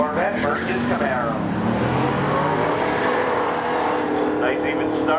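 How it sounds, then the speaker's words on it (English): A Corvette and a Camaro drag race at Seekonk Speedway, engines roaring loud and continuous as they accelerate together, with revving pitch rising over the span and a commentator talking throughout. "Nice even start as they drag race off of turn 2."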